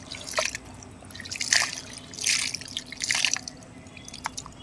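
Water poured onto the soil around a freshly transplanted grape plant, heard close as several irregular splashing, trickling bursts with no voices.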